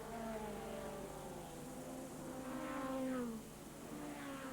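A race car in a Sports Clubman race sweeps past at a Scottish circuit, its engine note rising and then falling as it goes by, moderately distant and alone with no talk.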